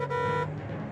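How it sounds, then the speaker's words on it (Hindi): A car horn blares in one sustained, nasal toot at night, fairly close and loud, then cuts off into low background noise. "देखिए, हॉर्न बजाना बंद कीजिए"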